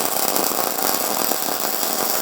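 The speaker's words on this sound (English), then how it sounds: "Now I'm just burning wire." A MIG welder burns wire while patching porous areas, giving a steady, loud crackling sizzle that continues without a break at close range.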